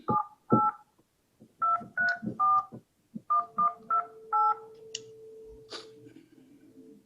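Telephone dialing tones from a phone call during a city commission meeting: a quick run of about a dozen distinct beeps in short groups, followed by a long, steady line tone.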